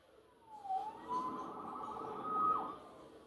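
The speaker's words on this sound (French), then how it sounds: "Sauvé par les sirènes." A police siren in the video game Marvel's Spider-Man Remastered wails faintly in the background, rising and falling over a few seconds, with no voices.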